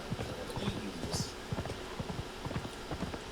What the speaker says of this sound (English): There's some horses up here.